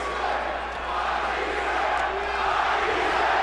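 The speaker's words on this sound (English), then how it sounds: "And the crowd is chanting, Matthysse, Matthysse, Matthysse." A packed arena crowd at the Matthysse vs Provodnikov boxing fight chanting a fighter's name, a loud, steady roar of many voices that fills the whole stretch, with no clear single speaker.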